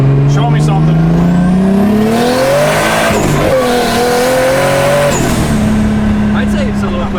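A boosted drift car accelerates hard after its turbo boost is turned way up, the engine climbing through rising revs with gear changes and tire noise, loud and close while people talk over it.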